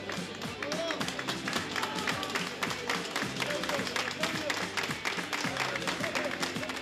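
Welcoming applause greets athlete Claudio Romero on arrival in Chile, with continuous rhythmic clapping from a group, fairly distant and soft, alongside low crowd chatter.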